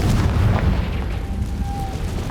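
A Confringo blasting spell goes off in Hogwarts Legacy, giving a loud, sustained low boom that rumbles through the whole moment with no talking over it.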